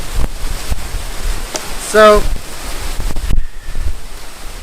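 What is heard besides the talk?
strong wind at lake observation deck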